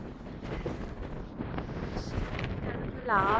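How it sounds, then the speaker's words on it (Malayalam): Gusty wind on a hilltop in Scotland buffeting the microphone in rough, rumbling bursts, with a brief higher tone near the end. "നല്ല കാറ്റുണ്ട്"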